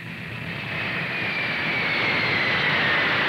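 A 1976 flight-test aircraft passes smoke towers near Atlantic City, its engine roar swelling steadily from moderate to loud over a few seconds with no talk.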